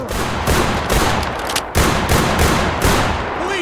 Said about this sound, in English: That shotgun is f***ing strong, dude.